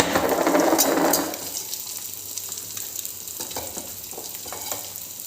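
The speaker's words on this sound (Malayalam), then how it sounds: "ഇനി ഇത് നന്നായിട്ട് ഫ്രൈ ചെയ്തെടുക്കുക" Masala frying in a pan for a restaurant-style egg curry, with a loud sizzle at first that settles into a softer steady crackle with occasional stirring clicks.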